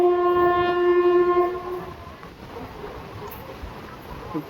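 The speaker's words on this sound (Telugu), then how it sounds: "ప్లాట్ఫామ్ నెంబర్ వన్కి అయితే వెళ్తుంది పక్క ట్రైన్" A train pulling into a station on a Nallamala forest railway line sounds a loud, sustained horn for about two seconds, followed by the low rumble of rolling cars and faint background voices.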